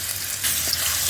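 Garlic paste frying in oil until browned, a brief close sizzle that brightens partway through, with no talk.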